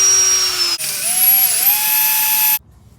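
Power drill with a 21/64 bit boring out a brake caliper bolt hole on a Jeep Wrangler, one sustained high whine that shifts pitch under load and then cuts off abruptly.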